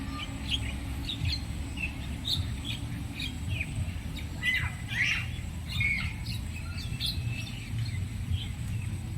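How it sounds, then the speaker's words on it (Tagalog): Many birds squawk and chirp at a lake garden, overlapping calls scattered throughout over a steady low outdoor hum, at moderate distance with no talk. "Daming ibon."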